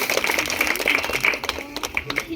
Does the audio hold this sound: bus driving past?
no